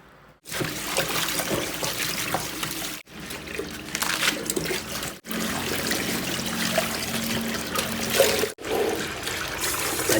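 Tap water runs steadily over a freshly cleaned fish of roughly a kilogram as it is washed, a loud, close splashing stream broken by three brief stops.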